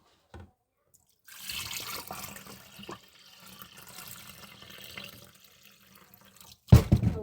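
Water from a tap runs and splashes while rice is washed in a pot for cooking, a soft trickling wash in the middle with a loud burst of flowing water at the end.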